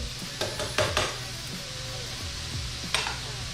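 Louisiana red beans and rice sizzle steadily in a hot pot, with a few sharp clinks of a utensil against the metal.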